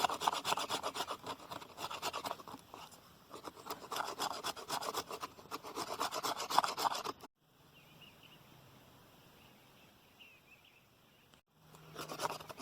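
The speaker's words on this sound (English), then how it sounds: "work some shavings off of it right down into it, trying to get some fine shavings" Knife shaving fine curls off a piece of wood to make campfire tinder: close, steady rasping strokes for several seconds, a quiet pause, then the scraping starts again.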